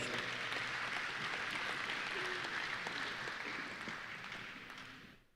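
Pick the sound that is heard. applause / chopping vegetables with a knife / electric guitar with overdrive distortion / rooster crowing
applause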